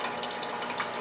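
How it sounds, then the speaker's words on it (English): Juice poured from a can into a cooking pot for chicken and dumplings, a soft steady liquid trickle heard close up for about a second. "I'm going to pour a little juice in there."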